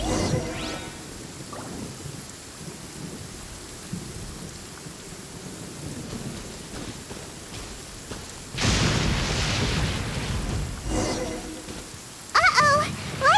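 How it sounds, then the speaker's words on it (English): A lightning storm with rain in Genshin Impact: steady rainfall hisses throughout while a thunder crack booms in the middle, and a voice speaks near the end. "Uh-oh! Lightning storm!"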